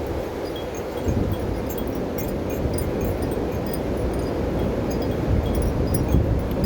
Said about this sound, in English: I don't know if you guys can hear me over this wind.